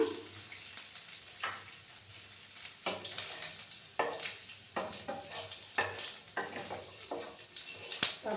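Garlic frying in a pan over a low gas flame, a soft steady sizzle broken by stirring scrapes at irregular intervals, close but faint.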